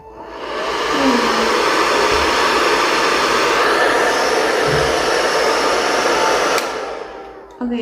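A hair dryer with a diffuser attachment runs on hot at low power, a loud, steady whooshing blow for several seconds before it cuts off near the end.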